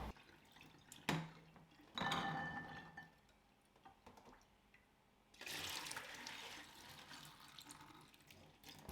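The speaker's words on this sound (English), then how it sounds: "In the morning, drain the water." Soaked beans are drained of their overnight soaking water in a kitchen, with a faint clink and a brief pour near the start, then a steady rush of water running for the last few seconds, fairly quiet overall.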